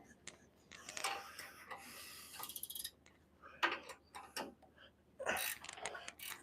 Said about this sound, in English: We got the ratchet on there.